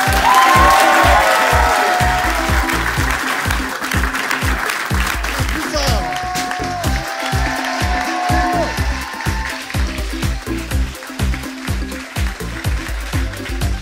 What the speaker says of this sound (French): je vous demande d'applaudir très très fort notre invité